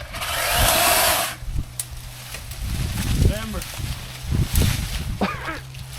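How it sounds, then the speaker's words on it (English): Chainsaw cutting through shrub wood during outdoor clearing work at a property, a loud sustained high-pitched buzz for the first second or so, then cutting off into scattered knocks and handling noise while people talk. "Cut it with a chainsaw now!"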